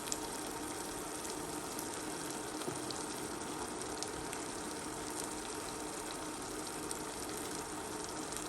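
Tomato paste sizzles and fries in a pan, a steady, soft, dense crackle held evenly throughout with no talking.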